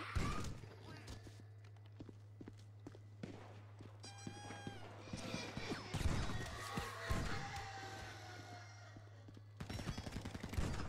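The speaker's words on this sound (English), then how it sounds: "I'm using a shotgun" Shotgun blasts in Grand Theft Auto V fire as several sharp, loud booms spread through the clip, with a steady low game hum and scattered scuffs and clatter in between.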